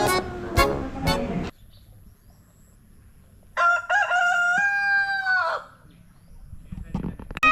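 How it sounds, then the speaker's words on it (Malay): A large rooster crows loudly and close by, one long drawn-out call in the middle of the clip, with other sounds before and after it, at an outdoor family wedding feast in Negeri Sembilan. "Wow, besarnya ayam ni."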